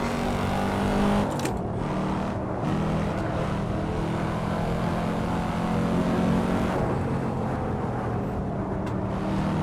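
A Corvette C4 ZR-1 with over 400 horsepower to the rear wheels, driven in the Assetto Corsa racing game: a loud, steady engine drone that holds its pitch throughout, with brief gear shifts and no talking.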